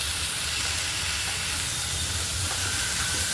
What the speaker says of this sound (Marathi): आता आपण कांदा खूप चांगला क्रिस्पी आणि लाल होईपर्यंत भाजूया